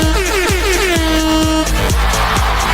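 Repeated air horn blasts sound in a quick rhythmic series, loud and close, layered over a steady electronic beat.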